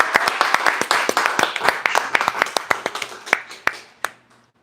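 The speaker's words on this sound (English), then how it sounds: "One more big round of applause." A round of applause from a small audience at a live book event, with close, distinct hand claps that build, then thin out to a few final claps and fade.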